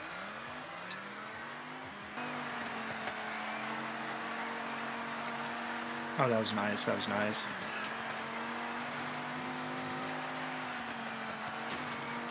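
Dodge Viper engine in a Forza Horizon 6 budget-car race, a steady droning hum with brief sharp bursts of revving midway, while someone talks over it.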